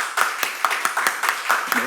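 A church congregation at a Sunday worship service claps in a steady rhythmic beat, evenly spaced claps at moderate loudness with a voice speaking over them.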